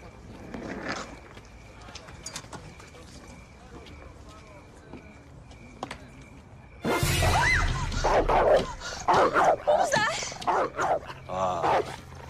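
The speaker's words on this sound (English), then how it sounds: "She's afraid of dogs, dude." A dog barks several times, with a few short, sharp barks among loud overlapping talk in the second half.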